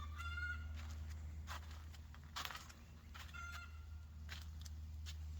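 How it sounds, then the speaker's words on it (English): Chickens cluck and call softly at a distance, scattered bursts over a low steady background hum, with no voices. "those chickens are laying some eggs over there, man."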